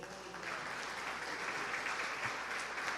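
A church congregation applauds during a sermon, a faint, steady wash of many hands clapping filling the room at a distance, with no speech over it.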